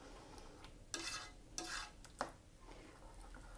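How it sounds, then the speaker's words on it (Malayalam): Vegetable kurma being stirred in a pot right after yogurt is added, with a few distinct spoon scrapes and knocks over a faint low simmer, quiet overall. "നന്നായിട്ട് മിക്സ് ചെയ്ത് കൊടുക്കാം. പെട്ടെന്ന് തന്നെ മിക്സ് ചെയ്ത് കൊടുക്കണം,"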